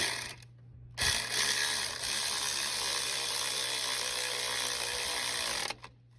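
A bolt being driven tight on the clutch bracket of a 2005-2010 Chevrolet Cobalt: a steady close-up mechanical whirring rattle that runs for about five seconds before stopping abruptly.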